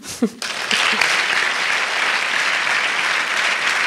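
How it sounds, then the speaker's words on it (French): After a short spoken moment at the start, a conference audience at a company centenary event breaks into sustained applause for a student called to the stage, a thick, even wash of clapping from many people that holds to the end. "On l'applaudit."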